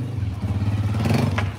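Motorcycle engine idling and being rolled forward, a steady low rumbling putter with light clatter and scraping, close and fairly loud throughout, with no clear speech.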